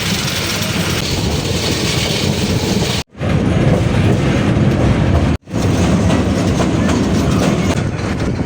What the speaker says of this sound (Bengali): প্রায় 2 ঘন্টা ট্রেন জার্নির পরে আমাদের ট্রেনটি নরসিংদীতে বিরতি দেওয়া হয় যাত্রী ওঠানামা করার জন্য।